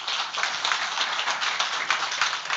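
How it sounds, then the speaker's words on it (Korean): A congregation at a Thursday evening church worship service claps together in a brief, dense, even burst of many hands at close range. "박수"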